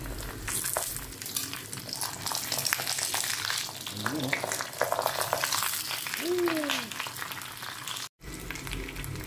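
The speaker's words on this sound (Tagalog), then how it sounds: "Itlog na prito." Eggs frying sunny side up in a pan, a continuous crackling sizzle with occasional stirring or scraping noises and a brief dropout near the end.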